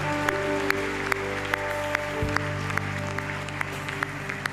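A church congregation at a worship service applauds to acclaim Jesus, with steady clapping over sustained keyboard tones and sharp rhythmic hits, with no voices.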